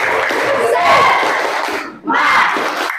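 A classroom group of voices shouts a loud clapping chant in unison, with a short pause before a second burst of shouting.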